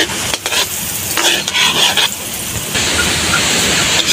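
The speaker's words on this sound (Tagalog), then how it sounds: "Nabakaran yung bawang para sa ating tahong." Garlic sizzles in melted butter for mussels, a loud, bright frying hiss with stirring scrapes and brief dips before the crackle settles into a steady sizzle.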